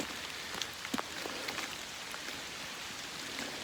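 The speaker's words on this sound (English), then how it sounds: "2 hours in rain like this" Steady rain pours outdoors over a truck tailgate in an open backcountry spot with no shelter, a continuous dense hiss broken by a few sharper drop taps up close, with no voices.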